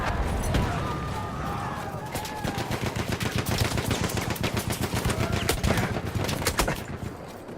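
Rapid gunfire bursts from the World War I shooter Battlefield 1, a Russian Revolution operation called Red Tide, crackle loud and nearly continuous, dense machine-gun rattle mixed with shouted in-game voices over the battle din.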